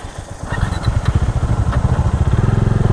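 A motorcycle engine runs steadily on a hill bike tour, its low, pulsing throb close and loud throughout, with a rhythmic chug that quickens slightly toward the end.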